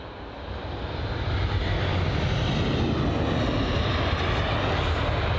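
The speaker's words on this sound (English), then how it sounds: "So the Aer Lingus A320-200 from Dublin." Aer Lingus Airbus A320-200 jet airliner from Dublin at London Heathrow, a steady loud broadband engine roar that swells slightly at the start and then holds evenly throughout, with no talking.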